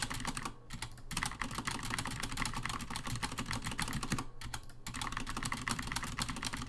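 Keys hammered rapidly on a computer keyboard in a steady, close barrage of clicks, broken by two short pauses before the mashing resumes.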